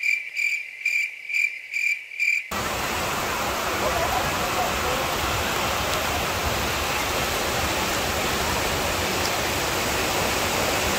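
Heavy rain pours outdoors on a stormy day as a steady, dense, loud hiss that holds without a break, following a couple of seconds of faint repeating electronic chirps.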